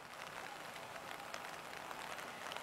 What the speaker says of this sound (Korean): 지금 이렇게 비가 내리는 데다